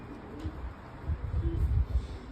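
Pigeons cooing in a loft, low soft repeated coos close by, with a faint higher bird note mixed in.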